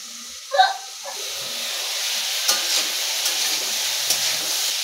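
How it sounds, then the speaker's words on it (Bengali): Snake gourd, pointed gourd and potato fry in a pan with a steady, close sizzle, opening with a brief clatter of stirring before the hiss settles into an even crackle. "चिचिंगे पटल और आलू अनेकटाई भाजा भाजा हो एसेছে"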